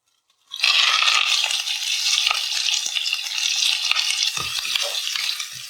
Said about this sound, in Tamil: இப்போ வெங்காயம் நல்லா ப்ரௌன் ஆகுற வரைக்கும் நல்லா வதக்கணும்